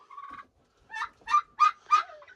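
Turkeys on a winter homestead gobble up close, one short call followed by a quick run of several rapid gobbles, loud and clear against quiet surroundings.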